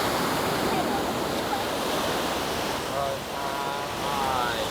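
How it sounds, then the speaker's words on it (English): Waves wash continuously onto a clean white sand beach on Koh Samet, Thailand, a broad steady surf roar with wind buffeting the microphone, while a voice speaks faintly underneath. "As you can see, it's a white sand beach."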